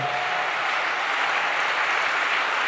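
A church congregation claps and cheers in a dense, steady wash of applause at full strength throughout, with no pause or change in intensity.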